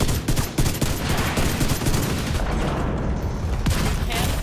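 Continuous heavy gunfire erupts in The Division 2 video game, a dense, loud barrage of overlapping rapid shots and bursts that never lets up.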